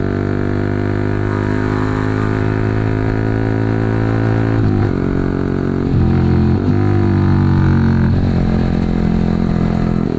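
A Yamaha R15 motorcycle engine runs steadily throughout, a loud close drone with shifting pitch as the rider changes speed, with no talking over it.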